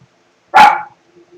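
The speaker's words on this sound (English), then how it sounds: "The pooch decided to bark at something that was not able to be seen by me." A dog gives one sharp, loud bark close by, quickly fading into near silence.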